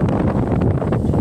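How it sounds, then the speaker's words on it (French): Wind blowing by a lake in Cameroon, heard as a steady, loud rushing roar with gusty buffeting against the microphone throughout. "Le vent qui souffle ici."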